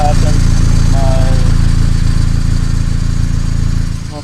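A loud, rough engine of an Acura RSX with a broken exhaust drones and sputters steadily up close, with a voice talking over it.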